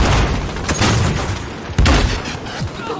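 Grenade explosions in a Call of Duty match during a college league game: two heavy, booming bursts about a second apart, loud and close, with a rumbling gunfire-like din between them.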